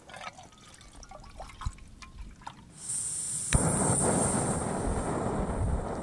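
A camping stove bursts into a loud, steady hiss of escaping gas as it ignites, the roar starting abruptly and continuing unbroken after a quieter stretch of faint outdoor sounds.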